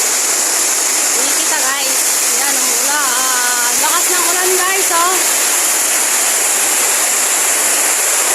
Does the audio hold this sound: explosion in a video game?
no